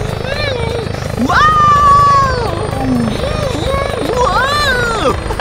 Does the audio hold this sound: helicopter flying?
yes